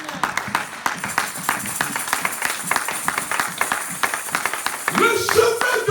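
A church congregation claps in acclamation to God, with dense, rapid, fairly close clapping that runs throughout and voices rising over it near the end.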